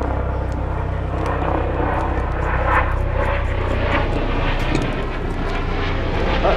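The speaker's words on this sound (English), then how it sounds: "There's a MedStar flight helicopter." A steady, loud engine drone of a MedStar medical helicopter passes overhead, a continuous rotor-and-engine roar with no voices, filling the whole stretch.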